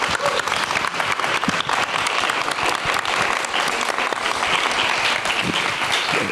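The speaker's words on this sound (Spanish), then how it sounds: "Les pido entonces nada más un gran aplauso para nuestros invitados de esta tarde." Sustained, dense audience applause fills a theatre for the afternoon's guests at a stage conversation, loud and steady throughout with no voices rising above it.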